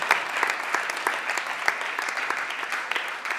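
Moderate audience applause at a comedy show, steady clapping from a crowd with a few louder individual claps, fairly close and without talk.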